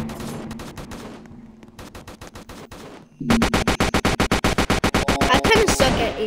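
Rapid automatic AK-47 fire in the Roblox video game, a few shots first, then after a short gap a long, loud, steady burst of evenly spaced shots.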